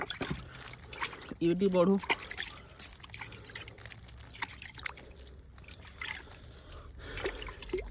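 Water poured over a backyard straw heap where mushrooms have sprung up, trickling and splashing softly beneath steady conversation, with a brief louder burst of sound near the start.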